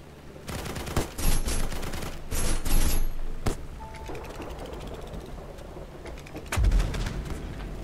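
Bursts of rapid gunfire in the video game Black Skylands crackle in short volleys, loud and close, with mechanical clicks between them and quieter stretches of background noise.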